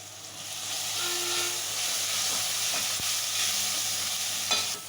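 Spices with a spoonful of turmeric fry in hot oil for a fish curry, giving a steady, even sizzle and hiss throughout, with a faint stir or clink near the end.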